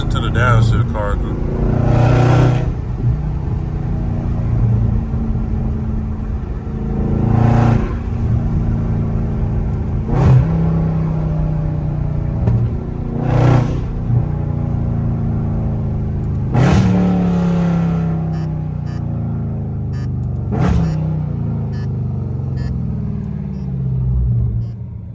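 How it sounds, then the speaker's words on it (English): A catless Dodge Charger Scat Pack downshifting in traffic, its loud V8 burbling and rumbling with repeated sharp rev blips and crackles, heard from inside the car with occasional talk in the cabin. "Just listen to the downshift"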